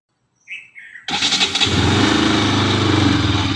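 After a brief chirp, a Bajaj Pulsar RS200 motorcycle engine cranks and catches, settling into a loud, steady close-up idle that runs to the end.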